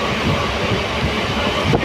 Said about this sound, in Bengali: আমরা উঠেছি ভোররাতে ট্রেনে, শিয়ালদা শান্তিপুর লোকাল